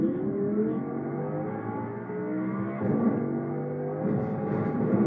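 A car driven in the video game Fortnite gives a steady engine hum with harmonic tones that rise and shift as it accelerates, continuous and fairly loud throughout with no talk.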